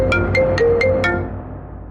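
A phone ringtone plays close and loud, a short melodic pattern of rising tones over a low background hum, fading toward the end with no talk.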